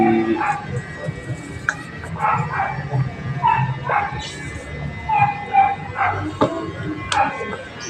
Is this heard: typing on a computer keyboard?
no